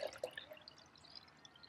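Liquid poured into a beaker at a personal training gym, a faint brief trickle with a couple of small drips and splashes, close by and quiet, no voices.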